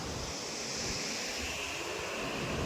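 River water rushing steadily near a farm along the Ganges, a continuous broadband wash with no speech over it.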